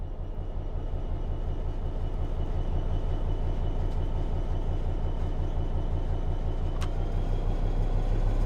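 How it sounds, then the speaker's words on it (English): A train in the Train Sim World 3 game pulls away under throttle, giving a steady, loud low rumble and motor drone that holds throughout, with a faint high whine and one brief click. "Apply some throttle to get the train moving."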